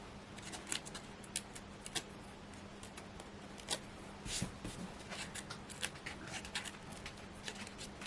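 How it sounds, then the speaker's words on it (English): Backing paper being peeled off adhesive foam pads at a craft table, giving a series of short, close crackly rips and light ticks spread across the stretch, with quiet gaps in between and no talking. "just peel these backs off"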